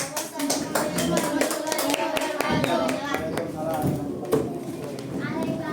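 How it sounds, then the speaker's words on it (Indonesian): Fifth-grade elementary pupils clap their hands in a classroom, a loud, dense patter of claps running throughout with children's voices mixed in. "Ya, tuh, tepuk tangan."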